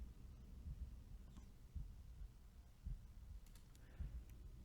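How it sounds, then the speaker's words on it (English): A soft, low heartbeat pulses at an even rhythm in The Room puzzle game, quiet thumps about once a second over faint background hum with a few light clicks. "Can you hear the heartbeat?"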